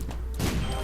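Explosions in The Binding of Isaac game make a dense, booming roar that swells suddenly partway through and stays loud and continuous.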